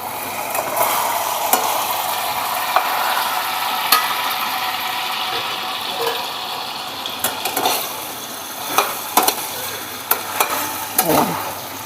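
Crispy fried chicken is stirred and tossed with Schezwan chutney in a hot pan: a continuous sizzle with scraping spatula strokes and a few sharper clanks toward the end, no talking.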